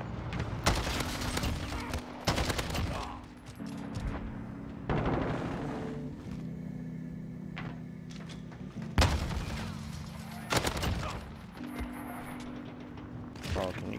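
Bursts of gunfire from a first-person shooter game come in repeated clusters, each a sharp sustained volley, with quieter gaps between them and game sounds underneath.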